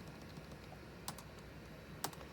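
Keys pressed on a Compaq LTE Lite laptop keyboard, two sharp isolated clicks about a second apart over a quiet steady hiss, close to the microphone.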